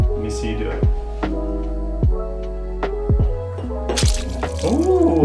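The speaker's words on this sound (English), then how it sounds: "Hudson, can you pour this into this glass?" Thick slime is poured into a glass, giving wet, sticky drips and squelching plops in an irregular sequence, close up, with people talking in between.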